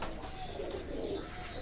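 A clear-eyed black chapdar pigeon coos faintly, a few soft low rolling calls close by against a quiet, even background hum.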